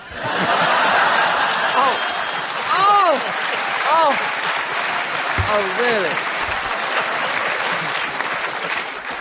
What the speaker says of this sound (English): And this audience applauds.